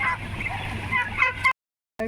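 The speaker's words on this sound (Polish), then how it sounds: "Kaczki hodujemy od malutkiej kaczuszki." Ducks honking and quacking in a busy cluster on a farm, harsh nasal calls close by, then a sudden cut to silence and a brief return.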